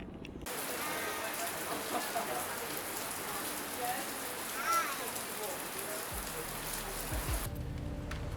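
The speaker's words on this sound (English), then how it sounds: "it's starting to rain again." Continuous rain patters steadily on surfaces nearby, a dense even hiss that cuts off abruptly near the end.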